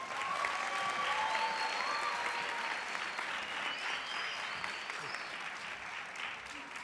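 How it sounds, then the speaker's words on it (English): A crowd applauds as a guest walks on stage at a school poster competition ceremony in Gauteng. The dense, steady clapping runs throughout, with faint whistles and cheers rising above it. "Please give her a round of applause."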